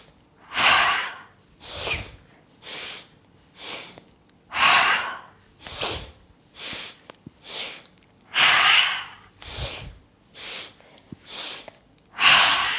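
Rhythmic deep breathing during a guided mindful-movement exercise: about a dozen loud, airy breaths close to the mic, alternating inhales and exhales with short pauses between them.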